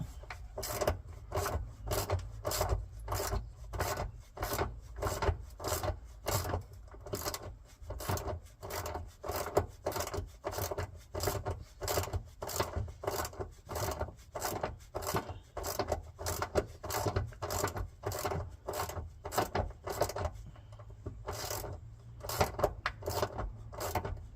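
A 10 mm socket wrench unscrewing a bolt on an Opel Corsa C during handbrake cable replacement, heard as a long run of fast, steady ratcheting clicks up close.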